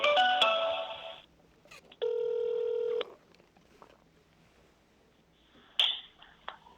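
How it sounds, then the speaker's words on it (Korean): Telephone keypad tones sound during a live election-night broadcast as a call is placed: a burst of DTMF dialing beeps, a steady one-second ringback tone, then a brief higher beep, with quiet line noise between. "그래서 바로 전화 연결을 해보겠습니다."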